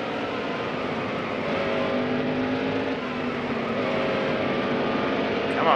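Race cars in the NASCAR Heat Evolution racing game, a steady, loud engine roar from a pack of cars running together, droning continuously with a slight rise near the end.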